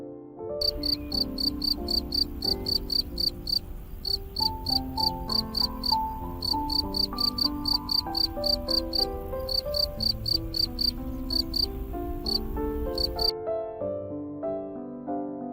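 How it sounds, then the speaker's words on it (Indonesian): Steady, rhythmic cricket chirping pulses on and on over a continuous musical background, then stops near the end while the music carries on alone. "Jangkrik dapat mengeluarkan suara unik yang berasal dari gesekan pada kedua sayapnya."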